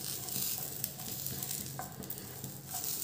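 Green chilies soften in a dry pan with no oil while being stirred for masala mirchi, giving a steady, close, soft hiss and sizzle with light scraping and no voices.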